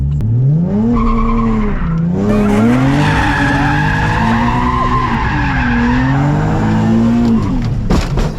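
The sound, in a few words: Nissan 370Z burnout, tires skidding and squealing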